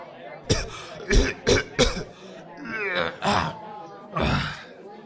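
A man coughs in a series of sharp, close bursts, then clears his throat with rough, drawn-out grunting sounds, ending in one more strong cough; no speech accompanies it.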